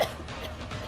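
A girl coughs in a horror story sound effect, a short rough cough over a dark, noisy background ambience.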